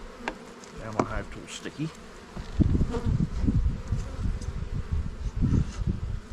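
Honey bees buzz steadily around an open hive during an early spring apiary inspection, a close, continuous drone with scattered louder passes, while a person talks briefly over it.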